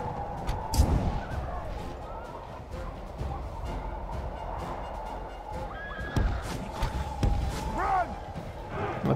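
Horses neighing and whinnying on a Third Age: Total War battlefield, several loud whinnies rising over a dense din of hooves, clashing combat and distant rumble.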